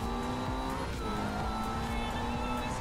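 A race car engine in the video game Forza Horizon 2 drones steadily with a sustained tone that shifts briefly about a second in. It plays alone at a moderate level.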